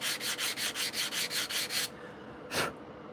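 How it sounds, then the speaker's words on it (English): Rhythmic sanding strokes rasp back and forth about nine times in quick succession, close up, on small paper model parts, followed by one final longer scrape after a short pause. "By sanding them down like this, I get an absolutely square bottom"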